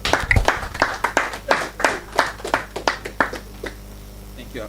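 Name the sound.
applause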